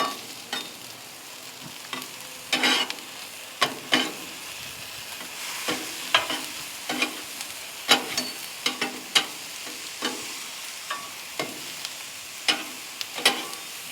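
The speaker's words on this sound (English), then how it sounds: "Get that sizzling, doing this thing." Fried rice sizzles on a Ninja FlexFlame grill under a steady hiss, punctuated by frequent rhythmic scrapes and clacks of a spatula tossing and breaking up the rice, close and clear.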